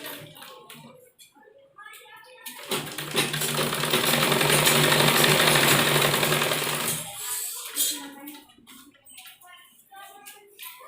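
A sewing machine runs in one sustained burst, stitching the hem of a churidar pajami, a loud buzzing whir lasting several seconds, with someone talking before and after it.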